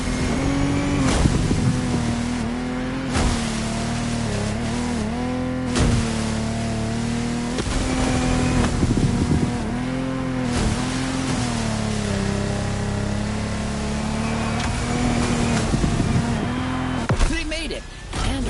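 A Lamborghini Technomar speedboat races in The Crew Motorfest, its engine droning loudly and steadily with pitch swells as it revs and eases, mixed with splashy water noise and occasional sharp hits.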